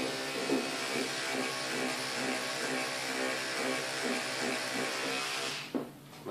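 A homemade micro grinder fitted onto an electric toothbrush runs with a steady, close buzzing whine, then cuts out near the end.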